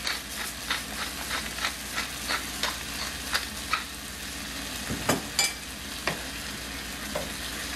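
Chickpea croquette mixture sautéing in a pan, a steady sizzle under regular scraping strokes of a utensil, close and fairly loud with sharper clacks near the end.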